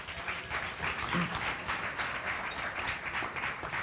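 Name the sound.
audience applause at a dinner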